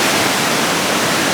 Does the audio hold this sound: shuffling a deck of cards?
no